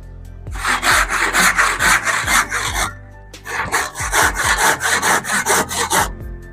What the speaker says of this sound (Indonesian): Dari suaranya mungkin teman-teman bisa menilai kalau gergaji ini sangat tajam.